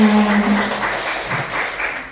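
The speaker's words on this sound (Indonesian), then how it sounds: "Oke, tepuk tangan untuk Bapak Ibu semua." Audience applause in a school guidance-counseling seminar hall at SMK Wicaksana Al-Hikmah Sirampog, a steady wash of clapping with a faint tonal hum underneath, moderately loud and continuous for the whole stretch.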